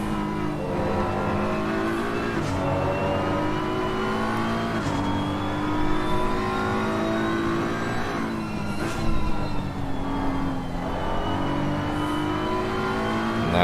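BMW GT race car in Assetto Corsa Competizione racing at Brands Hatch, its engine loud and continuous throughout, rising and falling in pitch through gear changes and corners, with brief tire noise.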